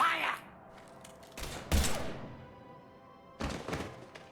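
Gunfire from the Mass Effect 3 video game comes as a few loud, sharp blasts and thuds, with one burst near the middle and another near the end, over a quiet background.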